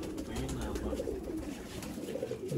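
Golden Kamagar pigeons coo softly amid a constant noisy background, with faint voices underneath.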